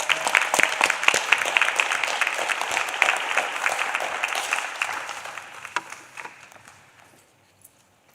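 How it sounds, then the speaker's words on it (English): Audience applause at a board of education meeting, dense clapping from a room of people that holds steady for several seconds, then thins out and fades to a few last claps. "Let's give her another round of applause."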